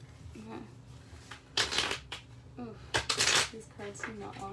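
Tarot cards riffle and shuffle in a few quick bursts, with soft handling sounds between them and a quiet voice in the background.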